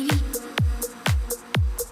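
Short vocal stabs in an Ableton session, each trailed by a subtle reverb tail, four evenly spaced hits about half a second apart, clear and close with no talking.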